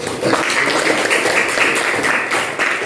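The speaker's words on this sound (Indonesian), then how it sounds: "kasih aplaus" A classroom of students applauding, dense loud clapping that holds steady for a few seconds before easing slightly.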